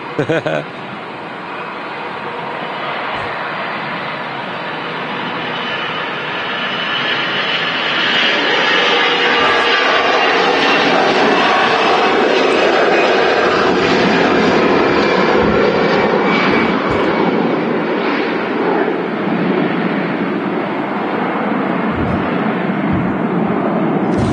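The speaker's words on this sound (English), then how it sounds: "EasyJet A320 heading off to Berlin." A jet airliner, an easyJet Airbus A320 departing Manchester Airport, roars steadily and grows louder, filling the air for the whole stretch while someone talks over it.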